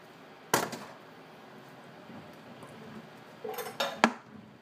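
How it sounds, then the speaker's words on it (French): Oatmeal being stirred in a pot as it comes to a boil, a few sharp metallic clinks and scrapes of a utensil against the pot over a quiet background, with no talk. "Et je le mélange bien."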